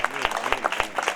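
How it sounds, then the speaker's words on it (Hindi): A congregation applauds a newlywed couple at a Christian wedding sermon with quick, rhythmic bursts of clapping, steady and moderately loud, mixed with voices. "दोनों के लिए ताली बजाएंगे।"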